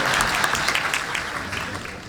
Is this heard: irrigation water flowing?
no